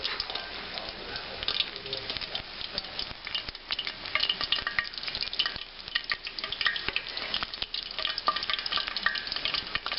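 Corn fritters fry in hot oil that may hold a little water, giving a dense, steady sizzle sprinkled with sharp pops and crackles across the whole stretch, close and fairly loud.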